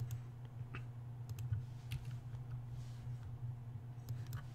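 A request code typed on a computer keyboard during a 3DS Max 7 install on Windows 10, with scattered, fairly quiet key clicks in an uneven rhythm over a steady low electrical hum.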